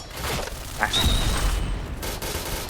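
Gunfire from the Pink Dragon gun in the online shooter Point Blank. A dense burst of rapid shots and booms runs for a couple of seconds, loud and close, with a bright ringing tone partway through.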